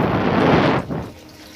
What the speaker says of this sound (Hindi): अब हम इसके अंदर ऐड करेंगे पानी।